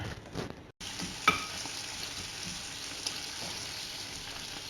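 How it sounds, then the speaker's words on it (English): Hot salami being mixed through risotto in a hot pan: a steady close sizzle and frying hiss with faint stirring scrapes, after a brief cut near the start. "I'm just going to mix some of them through there."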